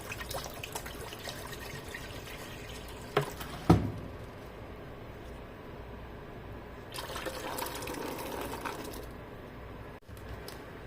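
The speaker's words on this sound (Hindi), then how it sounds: "पानी डाल देंगे।" Water is poured into a pot of soaked rajma kidney beans ready for boiling, a soft steady splashing fill with a couple of brief clanks and a faint sustained pour, heard alone without talk.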